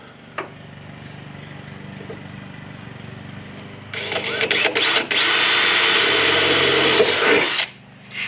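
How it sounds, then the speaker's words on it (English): A power drill whirs loudly for several seconds, revving up and down as it bores holes in a truck for keyless entry, after a quieter stretch of low background noise. "the actual drill bit that I need to make the hole big enough"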